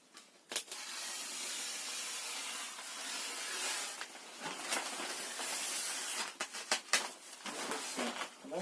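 A knife blade slices through a piece of wood ceiling paneling (vagonka) during ceiling finishing in a frame house, heard as close hissing, scraping strokes broken by a few sharp clicks and taps.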